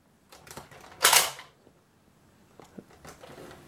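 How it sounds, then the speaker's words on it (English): Pop-out wings on a special-edition Buzz Lightyear toy in camouflage green snap open with one sharp plastic click, close up, surrounded by a few faint handling taps and rustles. "His wings can also pop out."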